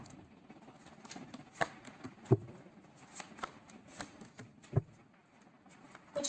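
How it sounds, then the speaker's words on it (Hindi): Tarot cards shuffled by hand in soft, quiet riffles and light taps, close by with a few sharper snaps scattered throughout. "So let's pull some cards from universe."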